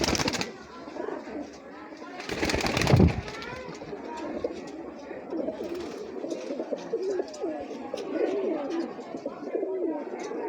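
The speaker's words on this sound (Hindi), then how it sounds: "ये टेडी कबूतर है" Cooing of an old Teddy breed pigeon at a breeder's loft near Islamabad, low soft coos repeating steadily under someone talking, with a brief louder burst of noise or wing flapping near the start.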